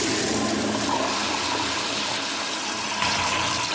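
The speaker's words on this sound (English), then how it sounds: "Tom hit the flush too." A toilet flushing in a public restroom, a loud continuous rushing gush of water held steady from start to finish with no voices.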